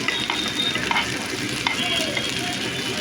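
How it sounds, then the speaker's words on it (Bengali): Onion and cumin seeds fry in a pan with a close, steady sizzle, broken by light scraping and stirring clicks, and no voices. "ভালো করে ভেজে নেব পেঁয়াজটাকে আমি ব্রাউন কালার করে ভেজে নেব"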